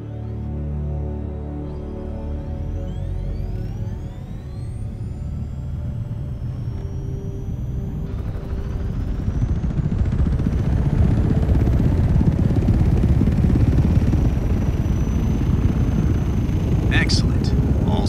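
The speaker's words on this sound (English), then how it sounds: "Now, start the engine to get the wings flapping and take to the skies." An ornithopter engine in the Dune expansion of Flight Simulator 2020 starts with rising whines, then swells into a loud, steady, helicopter-like roar that holds to the end.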